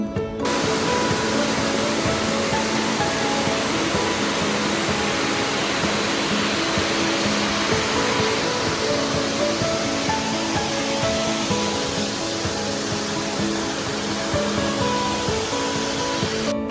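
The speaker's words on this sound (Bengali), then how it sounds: "দেখো কি সুন্দর ঝর্ণাটা পড়ছে" Elephant Waterfall in Shillong, a continuous loud roar of falling water that stays unbroken and even for the whole stretch, with no talking.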